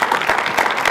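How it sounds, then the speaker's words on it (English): An audience at a junior high annual school day in Nairobi claps for the students, a short steady patter of many hands, fairly loud and close. "Please applaud our students."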